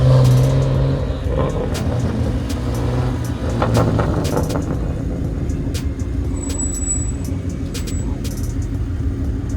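A Ford Mustang rolls through a parking lot, its engine a steady low rumble under general traffic noise, with brief higher squeaks and hisses now and then.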